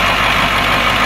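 A 78-passenger school bus engine idles close up with blow-by, a loud, steady rumbling drone with a rough, breathy hiss layered over it, unbroken for the whole moment.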